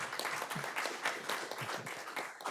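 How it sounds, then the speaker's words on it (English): Audience at a school board regular meeting claps in a quick round of applause, with individual hand claps audible in a brisk, fairly close burst lasting a couple of seconds. "Let's give her one more round of applause."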